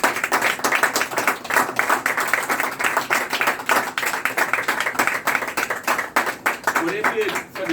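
Congregation clapping hands at a church service, rapid continuous rhythmic claps from many people throughout, with a voice talking over them.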